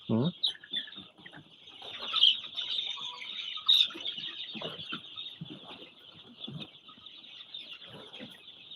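Two-week-old chicks in a brooder peep and chirp continuously at close range, high thin calls overlapping, with faint scuffling and a brief low voice at the start.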